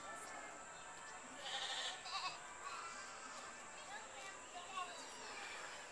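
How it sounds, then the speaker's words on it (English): Baby goats at a game farm bleat faintly in the distance amid background chatter, with a few short cries rising over a steady murmur of people. "It's a silly goat."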